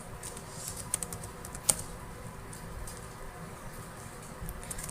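Light keystrokes tapped on a computer keyboard while entering a question, soft irregular clicks at low level with one sharper tap standing out, no voice.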